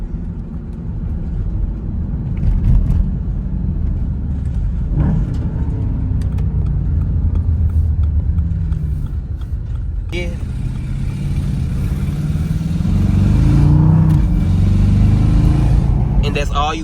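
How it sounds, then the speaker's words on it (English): Deep exhaust rumble from a car with its muffler deleted, a steady droning growl that swells louder toward the end, with someone speaking over it. "Let's see that downstairs sound right quick."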